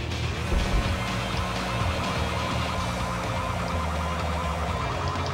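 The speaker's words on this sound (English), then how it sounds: "I got a police car right on top of me." A police siren wails continuously in a Need for Speed III hot pursuit race, steady and moderately loud over the game's engine and road noise, with no talk.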